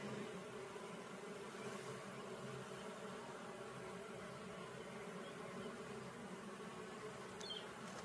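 A bee buzzes near a Layens beehive, a steady close hum that fills the whole stretch over soft outdoor background noise.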